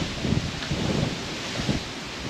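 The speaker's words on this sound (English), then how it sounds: "it's a bit windy here" Wind gusting outdoors at night in a rural spot with rabbits about, a steady low rumbling buffet against the microphone with a few stronger surges, loud and close throughout.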